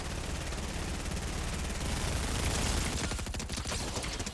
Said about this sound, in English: Man, this SMG does damage.